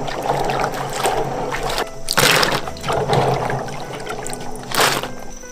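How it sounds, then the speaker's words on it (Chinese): Peeled garlic cloves being washed by hand in water, continuous splashing and sloshing with louder swishes and pours at intervals, close and steady throughout. "这是我们提前剥好的大蒜，也要洗一下"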